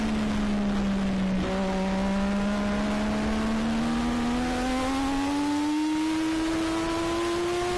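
Race car at the Nogaro circuit heard from on board, engine note rising steadily in pitch as it accelerates, loud and continuous with a slight dip early on.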